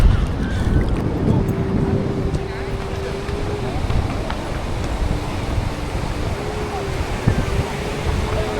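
Sea waves wash and rumble at a warm seaside on a Thai island, a steady broad surge mixed with wind buffeting the microphone, with no voices.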